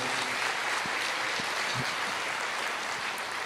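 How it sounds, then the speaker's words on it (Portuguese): A church congregation applauds the Lord during a sermon, a steady wash of crowd clapping that stays even and fairly soft from start to finish. "Pode aplaudir o Senhor."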